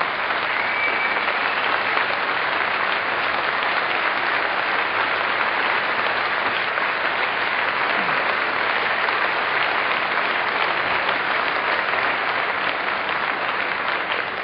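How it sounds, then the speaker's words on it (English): Sustained, dense applause from a concert audience at a show in Aarau, 1984, loud and even for the whole stretch with no voices on top. "Why don't you give them a great big round of applause, ladies and gentlemen."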